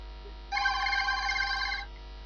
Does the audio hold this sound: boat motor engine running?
no